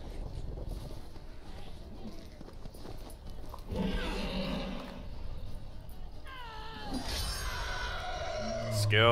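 A horse in The Witcher 3 video game neighs with rising and falling whinnies near the end, over hoof clip-clops and in-game ambience, while a voice is heard faintly.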